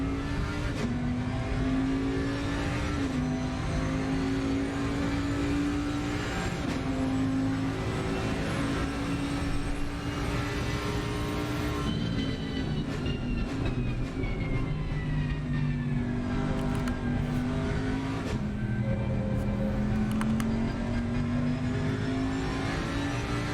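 Race cars circle the Paul Ricard track in Assetto Corsa Competizione, a continuous loud engine drone with shifting pitch as gears change and cars close on each other, with no talk over it.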